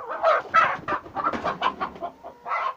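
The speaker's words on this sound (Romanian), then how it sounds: "sunt găinile care mă enervează" Hens cluck close by, a run of short, choppy clucks and squawks in an uneven rhythm, loud and near with no talk over them.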